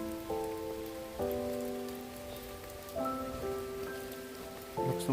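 Steady rain patters on a surface, with a hum of tonal background sound running underneath throughout.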